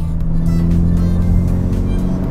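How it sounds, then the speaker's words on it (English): Steady engine drone of a MK6 Volkswagen GTI with an Integrated Engineering cold air intake, deep low rumble and a rising airy whoosh as the turbo builds boost, loud and close, no talking. "as it's building boost, you can definitely hear that intake sucking that air in quite aggressively"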